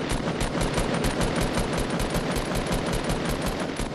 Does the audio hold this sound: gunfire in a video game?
yes